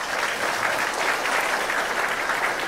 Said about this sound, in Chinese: 再给他们掌声。